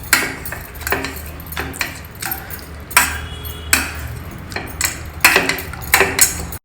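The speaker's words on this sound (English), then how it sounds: "Using a masher, you can mash this dal or you can even use the back of a spoon" Cooked dal being mashed by hand with a masher in a pot for South Indian Navratri prasad, giving repeated soft metallic clinks and thuds in an irregular rhythm, close and fairly loud with no talk.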